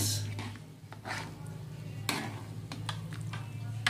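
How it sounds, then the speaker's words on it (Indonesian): Pork pieces coated in ground coriander spice are stirred in a pan, giving soft, irregular scrapes and light clinks over a low, steady sizzle, with brief faint voices. "kita aduk-aduk sedikit biar matangnya merata guys"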